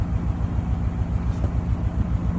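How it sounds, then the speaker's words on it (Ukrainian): A petrol car engine idles close by with a steady, low, throbbing putter and a slightly uneven beat. Nothing else is heard. "Пу-пу-пу-пу-пу на бензинчику чпунькає"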